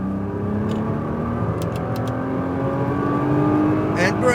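A Nissan GT-R Premium on an autocross course, its engine droning loudly from inside the cabin as it pulls and builds steadily, with brief interjections of speech over the engine noise.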